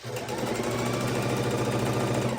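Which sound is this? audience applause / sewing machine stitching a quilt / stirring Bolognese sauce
sewing machine stitching a quilt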